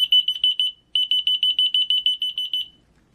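A key finder receiver sounds its alarm as a rapid, high-pitched electronic beeping, one burst of about seven pulses, a short gap, then a longer run of steady pulses that stops abruptly, loud and close with no talking.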